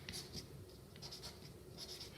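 A pen scratches out a short greeting on a stencil holiday card, faint soft strokes in a few quick bursts, close up and quiet.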